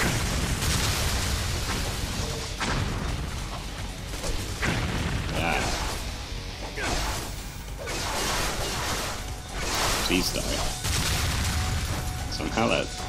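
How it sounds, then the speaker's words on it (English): Video game explosions in Ninja Gaiden Sigma 2 sound as repeated booms and bursts amid whooshing combat effects, dense and continuous, with game music and a voice talking underneath. "I didn't get caught in that explosion."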